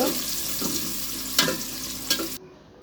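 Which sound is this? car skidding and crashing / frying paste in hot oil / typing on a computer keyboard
frying paste in hot oil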